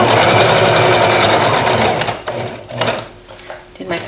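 A sewing machine stitches a garment being upcycled, running loud and steady with a continuous whirring drone for about two seconds, then slowing into shorter bursts with pauses.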